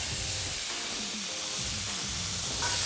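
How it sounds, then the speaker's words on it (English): Jackfruit and garlic hit hot oil for carnitas, producing a continuous close hiss and sizzle, steady throughout with a slight swell near the end, no talking. "I'm gonna put this right into the heat, along with the garlic."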